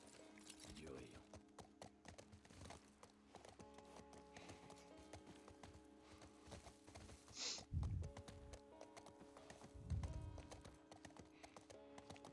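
Horse hooves clip-clopping in The Last of Us video game, a steady trot with a couple of louder heavy thuds, while a player talks over it.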